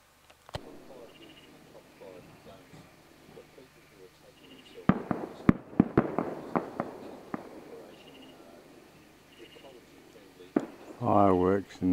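Fireworks bursting outdoors at night near an old mine site on the Tasmanian west coast, a run of sharp cracks and pops clustered in the middle, with faint distant bangs before and a louder rumbling burst at the end.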